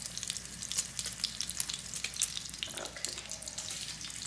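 Matzah topped with mozzarella fries steadily in a pan, giving a close, continuous crackling sizzle with bursts of spattering, and a single brief word spoken over it.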